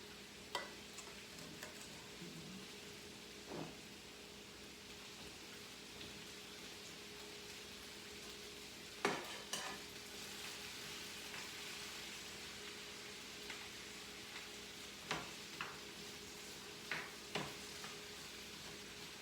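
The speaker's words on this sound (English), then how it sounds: "Don't forget to stir the vegetables." Vegetables fry in a skillet for butternut squash stuffing, a faint steady sizzle broken by occasional clicks and scrapes of stirring scattered through the stretch.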